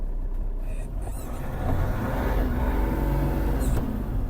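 A 1995 Mercedes-Benz 814 dump truck driving, its engine a low steady rumble that swells slightly in the second half, heard close with road and wind noise.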